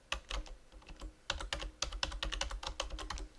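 Fast, steady typing on a computer keyboard, a dense run of close, crisp key clicks in uneven bursts, with no talk over it.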